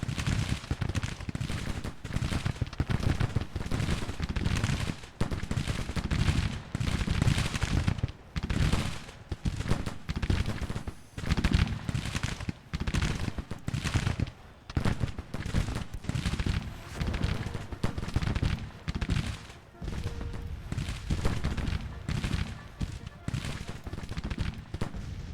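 Civil War infantry volleys in Grand Tactician: The Civil War, a dense, continuous crackle of rifle fire in irregular bursts lasting throughout, with someone talking over it at times.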